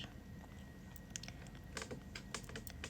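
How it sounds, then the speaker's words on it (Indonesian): Typing on a computer keyboard in a quiet room, a faint, irregular run of soft key clicks in short bursts over steady background hiss. "Ngetik."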